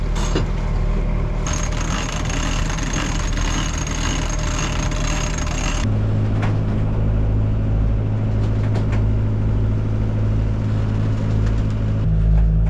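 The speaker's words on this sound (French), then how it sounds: "On va faire du moteur encore un peu." Steady low drone of a sailboat's auxiliary engine motoring along on a voyage toward Canada, a constant close rumble that shifts in tone about halfway through and continues unbroken for over twelve seconds.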